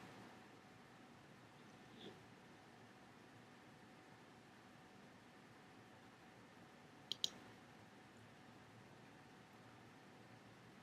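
A computer mouse gives one quick, crisp double click on a link, faint against a steady background hiss and otherwise quiet surroundings.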